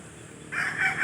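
A young two-month-old gamecock chick gives a short, thin crow-like call that rises after a brief lower clucking start, close and alone.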